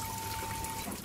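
Water runs steadily from a three-stage bore-well filter, a continuous close splashing pour with no pauses and no talking.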